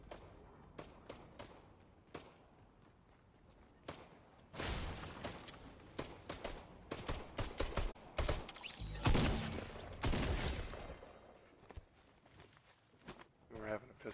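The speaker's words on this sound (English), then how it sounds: "We're having a pistol fight." Pistol shots in a multiplayer shooter video game, several sharp bursts clustered through the middle alongside footsteps and thuds, with a player talking over the action.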